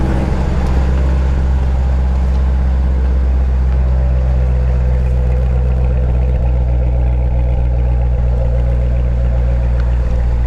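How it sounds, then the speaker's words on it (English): A loud, deep exhaust drone from a Chevrolet Cobalt SS with an aftermarket exhaust in track mode rumbles steadily up close, a constant low engine hum with slight rises in pitch over several seconds. "I'm going to put it in track mode so you can see the exhaust actuators open up real quick"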